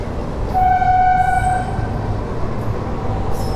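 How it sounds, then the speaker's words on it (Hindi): A local train runs on the Delhi line while crossing the Rajdhani Express, with steady loud rolling rumble and a long sustained horn blast near the start, then continuous track noise. "मैं पहली बार राजधानी को एक लोकल ट्रेन से क्रॉस कर रहा हूँ।"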